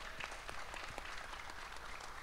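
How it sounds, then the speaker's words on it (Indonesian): Steady applause from a talk-show audience fills the room in a dense, continuous wash of clapping, at moderate volume with no clear voices on top. "jadi boleh tepuk tangan dong"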